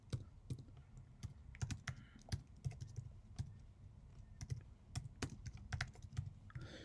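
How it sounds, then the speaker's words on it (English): Quiet typing on a computer keyboard while entering a line of Python code, irregular clusters of sharp key clicks with short pauses between bursts, close and soft, no voices. "So if you type just one line of code on the top,"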